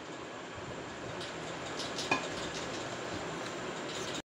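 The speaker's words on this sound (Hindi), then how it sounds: "इसमें ये पगलाया हुआ घी डालूंगी और इसे हम कर लेंगे मिक्स" Flour and melted ghee being mixed in a pan: a steady, close hiss of scraping and stirring, with a single sharp utensil clink midway and no talking.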